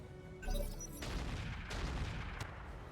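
Mortar turret firing in the mech combat game RogueTech, a BattleTech mod: a burst of dull booms and crackling blasts starting near the half-second mark, then steady rumbling gunfire and impacts across the rest of the moment.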